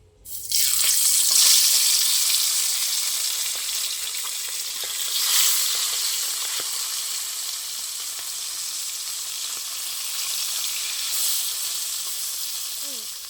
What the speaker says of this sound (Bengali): বাকি মাছগুলো আবার কড়াই দিয়ে দেবো এবার